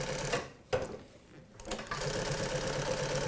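An NC6 walking foot sewing machine stitches in short runs, a close mechanical whirring chatter that starts, pauses briefly twice with a couple of clicks, then settles into a steady continuous run.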